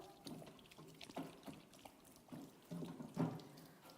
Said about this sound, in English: let me quickly wash my hand with soap and water